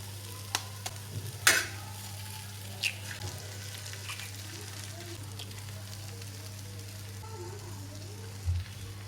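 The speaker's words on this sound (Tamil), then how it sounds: "முட்டை போட்டு கலந்து விட்டுருங்க." Beaten eggs stirred into kothu parotta frying in a pan, with a soft, steady sizzle and scattered sharp clinks and scrapes of the spatula against the metal. Quiet and close.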